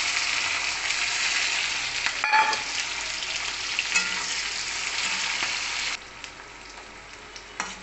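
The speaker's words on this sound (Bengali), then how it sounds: "পেঁয়াজটা আমার এখনও ভাজা হচ্ছে, লাল লাল করে পেঁয়াজটা একটু ভেজে নেবো।" Onions fry in hot oil with bay leaf and chilli, giving a steady close sizzle throughout, with an occasional clatter of stirring.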